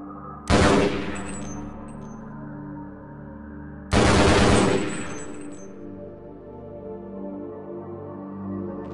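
Two loud, sharp blasts about three seconds apart, each ringing out with a long metallic decay, like heavy weapon shots in a game.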